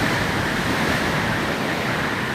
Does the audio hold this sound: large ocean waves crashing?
yes